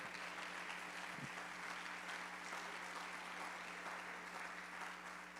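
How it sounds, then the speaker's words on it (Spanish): Steady, even-textured clapping from a church congregation applauding during a pastor's sermon, sustained and fairly faint for the full stretch with no voices. "Dense un aplauso, lo hacen muy bien, qué bárbaro"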